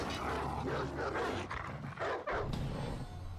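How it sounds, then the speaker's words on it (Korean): Dogs or wolves bark in the video game For Honor, with several rough, overlapping barks and growls over dense game noise. "이 개녀석들. 이 강아지 녀석들."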